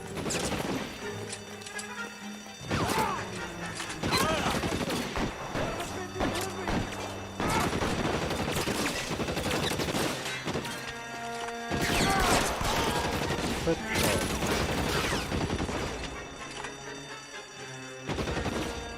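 Gunfire in a bank shootout in the video game L.A. Noire, with dense repeated shots and crashes at close range, loud and continuous, with occasional voices in between.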